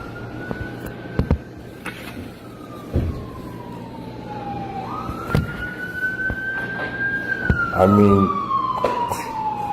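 A police car siren wails in long rising and falling sweeps as it speeds through a town square, loud and steady across the whole stretch, with traffic rumble and a few knocks beneath it.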